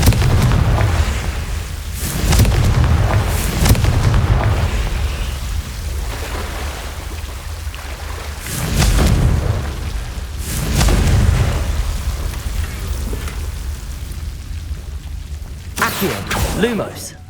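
Confringo fire-spell explosions in Hogwarts Legacy, several loud booming blasts recurring every few seconds over a rain-like ambient wash, with brief game voice moments in between.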